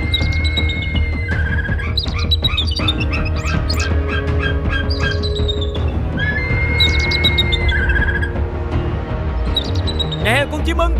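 A small bird in a 3D animated Vietnamese folk-tale cartoon chirps in repeated quick, bright tweets, layered over a steady background score and character voices.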